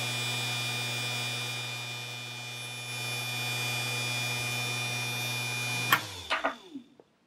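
A 775 DC motor spins at 24 volts, about 7200 RPM, giving a steady, loud electric whine with a constant hum for roughly six seconds before it cuts off and winds down with a few rattling clatters.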